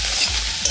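Onion, garlic and chillies sizzle loudly in hot oil in a pan at an outdoor picnic, stirred steadily with a spoon, with a couple of scraping knocks over the constant frying hiss.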